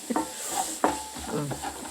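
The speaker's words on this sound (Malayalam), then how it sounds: "അരിഞ്ഞു വെച്ച സവാള ഇട്ട് കൊടുത്തു. അത് വഴണ്ട് വരട്ട്." Finely chopped onions sauté in a hot pan, giving a steady sizzle broken by a few sharp spatula stirs and scrapes, close and moderately loud, with no talking.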